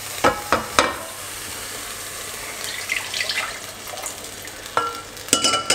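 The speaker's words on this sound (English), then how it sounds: "And I can now add my stock." Stock poured into a hot pan of mushrooms, giving a few clattering knocks, then a soft rushing sizzle and bubbling simmer, close up, ending with more utensil clinks against the pan.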